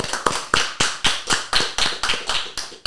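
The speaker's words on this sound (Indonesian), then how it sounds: "Beri tepuk tangan untuk Rin Hermana" A live audience bursts into applause for a stand-up comedian guest, a steady run of claps in quick regular bursts, close and fairly loud, with no talking over it.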